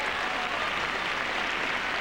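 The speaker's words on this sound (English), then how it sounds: "The crowd really lapping it up." Tennis crowd at the US Open applauds after a long rally, a dense, steady wash of clapping from a large stadium audience with no break.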